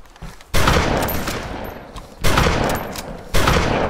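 Shotgun blasts in the video game DayZ, three loud booming shots spaced over a few seconds, each with a long decaying tail, close and dominant with no talk.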